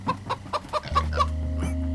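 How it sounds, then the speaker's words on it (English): A chicken clucks in the video game Minecraft: Story Mode, several short quick clucks in a row, close and clear, followed by a low steady game hum. "Oh, it's a chicken!"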